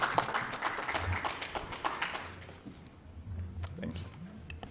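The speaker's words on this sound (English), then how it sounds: "Let's give ourselves a hand clap." Attendees at a grant signing ceremony clap in a brief, scattered round that fades after a couple of seconds, followed by a voice speaking.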